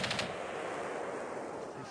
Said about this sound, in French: j'ai l'impression que les coups de feu, ils viennent de là-bas